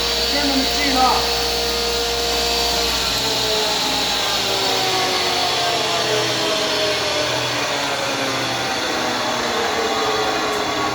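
A table saw runs with a steady loud motor whine, its pitch falling gradually as the blade spins down after being switched off, with a brief voice early on.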